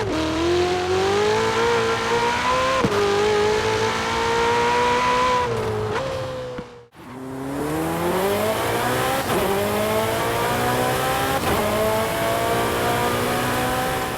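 A high-revving Ferrari 488 Pista engine in the Forza Horizon video games climbs through the gears with sharp shifts, briefly cuts out, then roars back and keeps accelerating.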